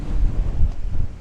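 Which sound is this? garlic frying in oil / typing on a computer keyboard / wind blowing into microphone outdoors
wind blowing into microphone outdoors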